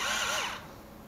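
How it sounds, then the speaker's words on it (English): A small power drill fitted with a 2 mm bit whines at high speed and then winds down, producing a close, steady motor hum that fades after about half a second. "I got my little drill here"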